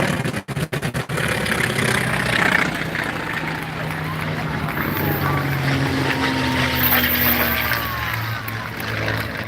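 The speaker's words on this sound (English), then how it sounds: "Some P-51 Mustangs. I think they had Rolls-Royce V12s, V16s," Vintage P-51 Mustang fighter planes with Rolls-Royce V12 engines pass over a Fourth of July parade in Edmond, Oklahoma, a sustained loud engine drone with a few sharp handling knocks at the start and crowd noise underneath.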